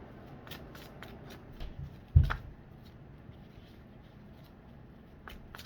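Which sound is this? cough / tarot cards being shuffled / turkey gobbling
tarot cards being shuffled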